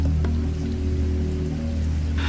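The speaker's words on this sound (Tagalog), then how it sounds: "Muling bumuhos ang malakas na ulan." Heavy rain pours steadily and loudly as a continuous dense wash in an audio drama about a storm striking a village, with a brief bright burst near the end.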